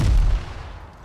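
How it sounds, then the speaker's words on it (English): A single heavy grenade blast in Fortnite booms close and loud, then a short rumbling tail fades out quickly. "Oh, behind us. Grenades."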